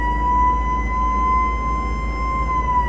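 A fire engine siren in an American truck-driving video game wails steadily and loud throughout, a sustained tone over a low engine rumble with no talking.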